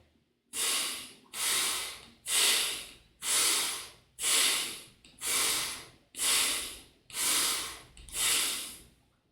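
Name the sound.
abdominal breathing exercise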